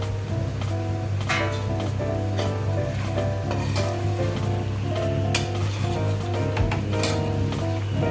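Chicken chukka cooks in a pan while being stirred, a continuous close sizzle of frying with scraping stir strokes and occasional clinks of the utensil against the pan, no talk.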